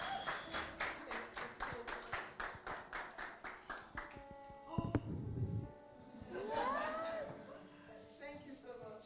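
Audience claps a steady round of applause to welcome a speaker onto the stage at a book reading, then the clapping fades and voices take over.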